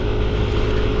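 Yamaha NMAX scooter cruising on a highway at night near Guararema and Mogi das Cruzes, a loud, steady engine drone mixed with heavy wind rush against the microphone, continuous and close.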